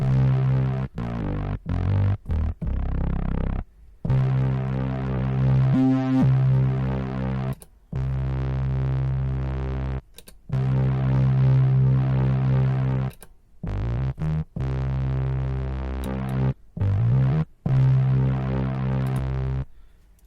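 Chorus-treated synth notes from a Behringer synthesizer through a TC Electronic June-60 chorus pedal, a steady throbbing pad with sustained chords broken by short gaps, loud and close with no talking.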